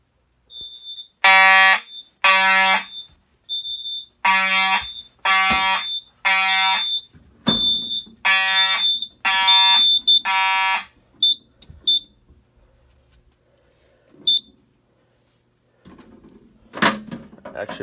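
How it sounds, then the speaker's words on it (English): Smoke detector sounding during a fire alarm system test after a panel swap: loud, harsh repeated buzzing alarm bursts in an even on-off pattern, followed by a few short chirps, clicks and a brief handling noise near the end. "Alright, let's do the smoke detectors."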